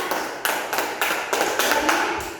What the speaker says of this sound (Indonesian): Kita beri tepuk tangan untuk Bulan